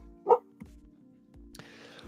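A single short dog bark rings out, fairly clear but somewhat distant, followed by quiet background and a faint rustling hiss near the end.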